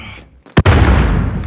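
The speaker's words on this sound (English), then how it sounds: "Grenade out!" A grenade explodes in the video game Call of Duty: Modern Warfare with one loud, sharp blast, followed by a sustained rumbling roar of debris and noise.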